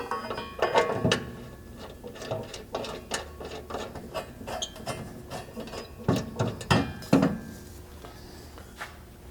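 A ratchet tightening factory bolts into a Toyota Tundra truck frame while a rear strike bumper is fitted. It gives quick runs of crisp clicking, then pauses, then more clicking bursts, close and fairly quiet.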